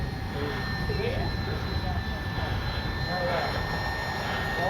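A radio-controlled FMS Cessna 182 model airplane drones steadily at a distance, a constant buzzing whine with faint pitch shifts as it passes overhead.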